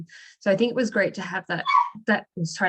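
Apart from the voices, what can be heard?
dog barking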